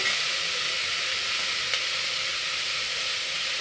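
Potato, capsicum, carrot and cauliflower sauté in a pan for a soy chunk vegetable pulao, giving a steady, close, bright sizzle and hiss with no talking over it.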